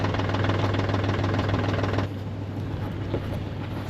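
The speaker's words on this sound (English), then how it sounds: "Starting the tractor." A tractor engine on a cattle farm runs with a loud, rhythmic mechanical chug and steady low hum, then drops abruptly to a quieter, rougher idle partway through.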